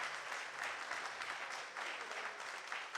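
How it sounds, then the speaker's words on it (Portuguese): A church congregation at a Sunday service claps steadily, a dense even wash of applause that is moderately distant and fairly quiet, with no voices over it. "Pode aplaudir, irmão."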